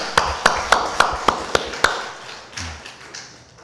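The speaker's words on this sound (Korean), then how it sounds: "다시 한번 우리 큰 박수 보냅니다." Church congregation claps in a steady rhythm: seven sharp, evenly spaced claps ring out close and clear, then a few softer ones trail away into quiet.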